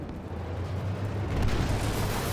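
Artillery shell blast in the tank combat game Armored Warfare, a loud low rumbling boom that swells and rolls on through the whole stretch without any talk.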